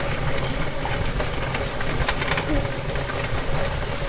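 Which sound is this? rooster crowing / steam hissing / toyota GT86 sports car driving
steam hissing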